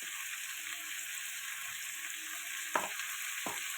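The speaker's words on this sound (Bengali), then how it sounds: "এটা ভালো করে এখন কষিয়ে নেব" Spices with turmeric and chili powder sauté in a pan, a soft, even sizzle with a couple of brief spoon scrapes near the end.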